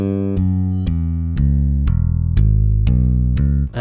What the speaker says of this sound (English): I did actually turn up the accentuated noise there.